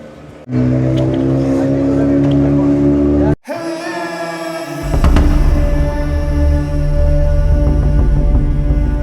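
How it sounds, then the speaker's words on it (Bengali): Speedboat engine on a lake at Shopnopuri amusement park, a loud, close motor drone with strong harmonics that cuts out briefly, then returns as a heavier, deeper roar. "এই লেকে আপনারা স্পিড বোট এনজয় করতে পারবেন"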